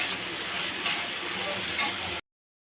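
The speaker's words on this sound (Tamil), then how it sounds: "இஞ்சி பூண்டு பேஸ்ட்டு ஆட் பண்ணிக்கலாங்க. நல்லா மிக்ஸ் பண்ணிக்கலாம்." Ginger garlic paste sizzles steadily on a hot dosa griddle as it is stirred and fried for a goat lung fry, a continuous loud crackle that stops abruptly.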